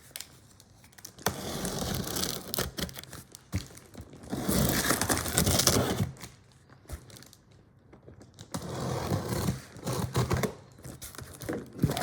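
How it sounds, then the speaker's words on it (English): A cardboard shipping box is cut and pulled open indoors in several close bursts of scraping, crackling and crinkling, separated by quieter pauses. "I'm going to go forth and cut open this box and see what we got."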